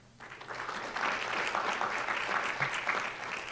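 Applause at a board of education meeting as a student athlete is recognized, a moderate crowd clapping steadily in a meeting room, starting abruptly and holding even throughout.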